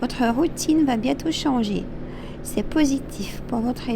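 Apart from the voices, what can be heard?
No everyday noise stands out behind the speech.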